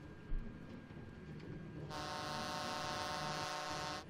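A Railcraft train in modded Minecraft 1.10.2, with a low rumble giving way to a loud, sustained horn-like tone that holds for about two seconds, with no talk.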